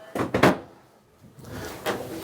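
Cupboards and drawers inside a boat being opened and closed, two quick close wooden clunks followed after a pause by a softer slide and another knock.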